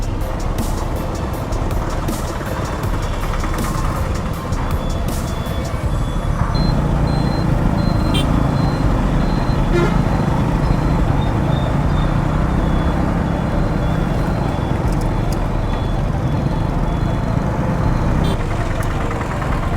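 Loud, continuous street traffic at the Gandhi Chowk junction in Keonjhar town, India, with engines droning, vehicles passing and occasional horn or beeping tones, heard from close amid the constant roar.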